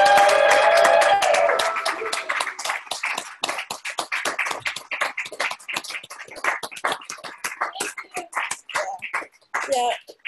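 Online event participants clap and make noise in appreciation, starting loud with mixed cheering and voices, then thinning into scattered, irregular individual claps and taps with a few voices over the top.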